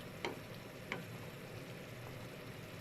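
Salted, lemon-rubbed fish fries in a pan for a miso sour dish, giving a steady, soft, even sizzle throughout with a couple of faint sharp ticks near the start.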